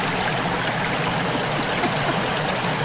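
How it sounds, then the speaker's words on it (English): Water runs steadily from a faucet, a continuous close hiss and trickle that fills the whole stretch with no pauses. "Turn the faucet off for crying out loud."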